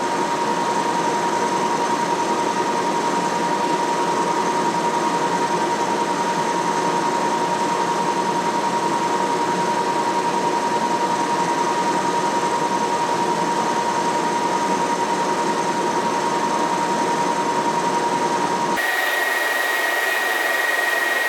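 A metal lathe turns at 1200 RPM with a carbide tool cutting on a steady rest part, making a constant loud whirring drone with a steady high whine; the sound changes abruptly near the end.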